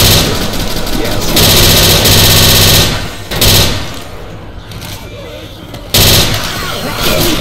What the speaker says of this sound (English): Shooting me doesn't get us anywhere.